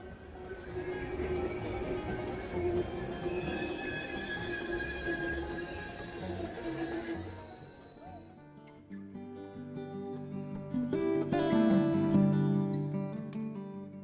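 The Big Boy 4014 steam locomotive rumbles past at St. Louis Union Station with long metallic wheel squeals, then a deeper rolling rumble builds and swells before easing off.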